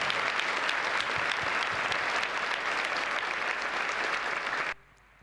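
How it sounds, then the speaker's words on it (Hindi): A church congregation claps for the choir in a dense, steady burst of applause lasting several seconds, then cuts off abruptly into near silence. "एक बार क्वायर के लिए ताली बजा दो"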